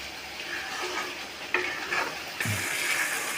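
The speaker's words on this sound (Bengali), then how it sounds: "মশলাটা ভালো করে ভাজবেন" Spice paste for a Bengali-style duck curry fries in a pot, a constant sizzle broken by a few sharp scraping strokes of stirring, close and moderately loud with no talking.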